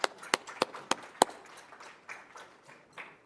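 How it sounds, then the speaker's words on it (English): Applause for the youth, Eshkanijic, at the Niigaan Gdizhaami Forum: a few loud, sharp claps ring out first, then settle into softer, scattered clapping from a small audience, fairly close. "Big round of applause to Eshkanijic, our youth"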